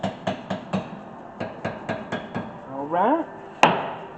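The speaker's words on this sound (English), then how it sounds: "Where's my little hammer here? Kind of just tap these in like gently." A small hammer taps gently on rear electric brake hardware of a 2015 Lexus NX200t, about ten evenly spaced metallic knocks, then a brief voiced remark and one sharper final strike.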